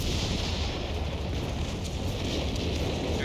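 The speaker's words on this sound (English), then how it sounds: "Here comes the artillery." Artillery shells hitting a sector in a war strategy video game give a dense, continuous rumbling barrage of blasts, loud and steady throughout with no talk.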